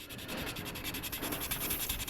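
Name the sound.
sanding a 1/72 Sinanju model kit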